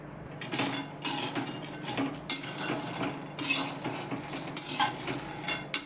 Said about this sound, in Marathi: हे बघा, शेंगदाणे भाजून घेते मी. चांगले भाजून घेते.